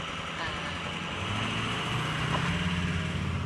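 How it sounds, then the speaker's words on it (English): Truck driving past on an Alberta road, a low rumbling engine drone with a gradual rise in pitch and level, heard steadily throughout over a constant wash of road and wind noise. "Lots of trucks in Alberta."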